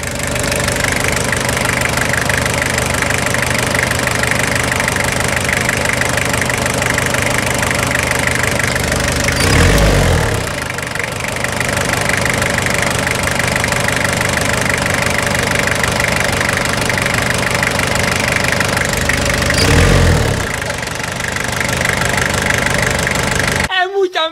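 Toyota Hilux SR engine idling steadily after starting, a close rhythmic knocking rumble with two brief louder bursts along the way.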